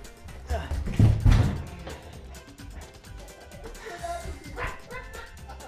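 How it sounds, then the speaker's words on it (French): A dog barks and yips in sharp, excited bursts, loudest early on and then quieter, with someone talking over it. "va récupérer ton chien, Kevin."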